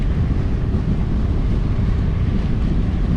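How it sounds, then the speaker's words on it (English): Wind roars against a GoPro microphone as a cyclist rides into a headwind on a highway bike trail, a dense, loud, steady rumble filling the whole moment with no voice. "This one's against the wind, but I got the wind canceller on, so let's see if it works or not."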